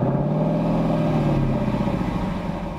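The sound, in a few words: Lexus LC 500 convertible V8 engine revving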